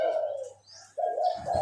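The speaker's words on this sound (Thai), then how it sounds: "มันยังขันอยู่นะครับ ยังคูอยู่" A spotted dove gives a soft, low coo, pauses briefly, then starts a second run of deep rolling coos, close and clear.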